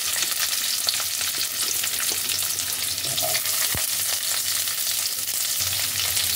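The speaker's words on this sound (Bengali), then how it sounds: "এবার এর মধ্যে এক এক করে আমি দিয়ে দেব কেটে রাখা পেঁয়াজ" Chopped onions frying in a little oil hiss and sizzle steadily and loudly in a close pan, with a dense, even crackle and one faint knock from stirring.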